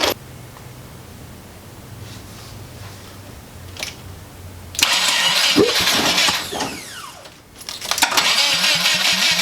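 A Porsche 914 engine cranks with a steady whir on a weakening battery, then fires and revs loudly, stumbles briefly, and catches again with rough running.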